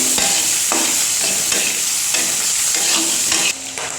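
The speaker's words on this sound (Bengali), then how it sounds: "পেঁয়াজটাকে একটু ভাজা ভাজা করে নেব।" Sliced onion and green chilli frying in oil in a home kitchen pan, a steady loud sizzle with repeated scraping stirs at regular intervals, no talk.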